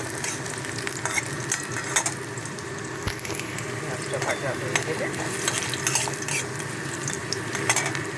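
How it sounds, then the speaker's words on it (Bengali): Sliced onions fry in oil in a pan for a Bengali tilapia mustard curry, giving a steady close sizzle broken by repeated scraping stirs of a spoon against the pan. "পেঁয়াজটা ভাজা হয়ে যাচ্ছে"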